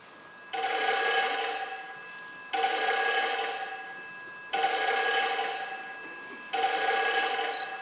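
Telephone ringing in a house, four evenly spaced bursts of an electronic bell tone, each lasting about a second and a half with short pauses between, clear and fairly close with no talk.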